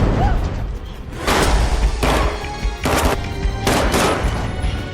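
Repeated bursts of gunfire in a movie firefight, heavy broadband blasts arriving in clustered volleys about every second over a constant low rumble of score and effects, loud and close.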